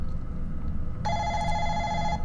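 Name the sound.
telephone ringing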